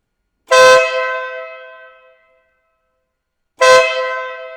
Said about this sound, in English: It's a true air horn with direct drive compressor, and let's hear it.